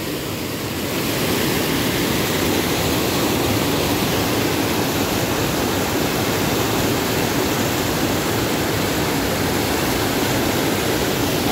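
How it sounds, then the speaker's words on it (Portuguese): Heavy rain pouring down in the Ceará backlands during a harsh rainy season, a dense, loud, unbroken roaring hiss that swells at the start and then stays constant. "Tá um aguaceiro grande."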